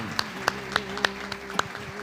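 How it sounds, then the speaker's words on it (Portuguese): A church congregation claps together in slow, evenly spaced beats, six or so distinct claps over a sustained musical tone, moderately loud. "Palmas ao Rei dos Reis comigo, por favor"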